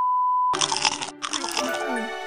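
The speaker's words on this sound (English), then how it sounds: "The crunching sound was not from the monster." Crisp crunching of chips being eaten, a dense burst of crackly bites that starts abruptly after a steady tone, pauses briefly, then resumes with voiced sounds and possible talk mixed in.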